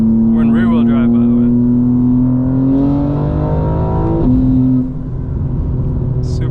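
A 2025 BMW M4 Competition xDrive tuned to 900 hp, heard from inside the cabin in rear-wheel-drive mode: a loud, steady engine drone with road noise that climbs in pitch, dips briefly at a gear change, then settles, with voices in the car.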